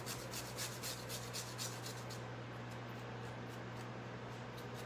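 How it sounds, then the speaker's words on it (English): A carrot rubbed against the fine side of a grater gives a soft, steady rasping with quick repeated strokes, fairly close and without talk, over a low constant hum. "I'm using the fine end of the grater just because I like when it's tinier."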